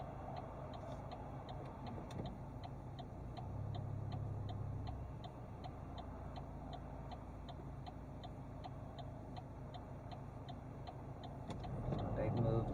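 Steady, evenly spaced clicks of a car's turn-signal indicator tick throughout a drive in Tallaght, over the low hum of the idling engine and cabin noise, growing slightly louder near the end.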